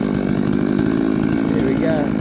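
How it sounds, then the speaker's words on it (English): A chainsaw runs at a loud, steady drone as it warms up, its chain freshly sharpened at an unusual angle, with a brief change in pitch near the end. "Go warm the saw up."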